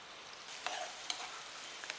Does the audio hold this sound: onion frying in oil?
yes